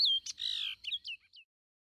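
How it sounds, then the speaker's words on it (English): A bird sings a short series of high chirps and whistled notes, close and clear, with brief pauses between phrases and silence at the end. "A bird song is typically a complex series of notes that is used to advertise to other birds during courtship of a mate"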